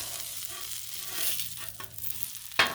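Country fried steak sizzles on a Blackstone griddle with a steady bright crackling hiss, close and continuous, ending with a sharp scrape or clack near the finish.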